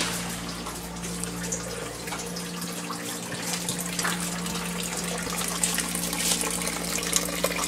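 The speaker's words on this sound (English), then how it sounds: "Jen, let's get a good shot of the sump pump" A sump pump flushes out water stained orange with iron ochre, a steady loud gushing flow over a constant low hum, continuous and close with no talk.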